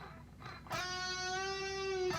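A synth-lead guitar tone plays a short lick: one plucked note rising by a hammer-on and falling back by a pull-off, a single sustained bright harmonic line heard alone and fairly loud.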